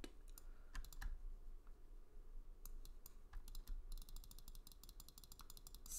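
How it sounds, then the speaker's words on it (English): Rapid spam clicking of a mouse or keys while modelling a deer for Minecraft, a fast, fairly quiet stream of clicks that grows into dense bursts toward the end. "Spam clicking, as you can probably hear."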